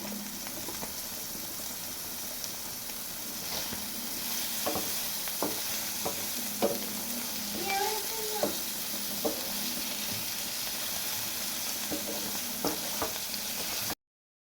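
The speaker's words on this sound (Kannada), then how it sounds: "ಪನ್ನೀರ್ ಕಲರ್ ಚೇಂಜ್ ಆಗೋವರೆಗೂ ಒಂದು 5ರಿಂದ 10 ನಿಮಿಷ ಫ್ರೈ ಮಾಡ್ಕೊಂಡ್ರೆ ಸಾಕು." Paneer fries in a pan, giving a continuous close sizzle broken by repeated scrapes and clinks of a spoon stirring the pieces.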